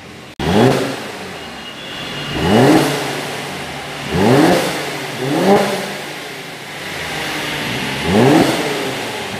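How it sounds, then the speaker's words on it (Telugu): A Mercedes-Benz AMG C43 sports car engine revs up repeatedly, five or six rising blips spaced a couple of seconds apart over a steady idle, close and loud with no talking. "సౌండ్ చూసుకుంటే మాత్రం మనకి ఒరిజినల్గా ఒక స్పోర్ట్స్ కార్ సౌండ్ వస్తుంది"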